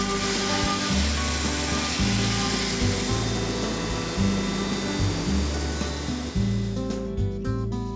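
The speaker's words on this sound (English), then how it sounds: "we're also working on the dovetail marking gauges, which we machine out of aluminum on the CNC mills" A CNC mill machining aluminum dovetail marking gauges, with a loud continuous whine and grinding hum whose low tones step up and down in a repeating pattern as the cutter moves.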